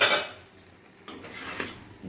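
A spoon stirs boiling vegetables in a covered cooking pot for pav bhaji, clinking and scraping against the metal in a brief burst at the start and a few lighter scrapes afterwards, with no one talking.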